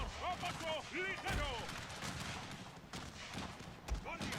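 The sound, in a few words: cannons firing canister shot in a Total War battle video game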